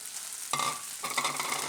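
Ground boiled wheat roasts in ghee with dry fruits in a pan for ladoos, making a soft, close sizzle with stirring scrapes that grow denser partway through.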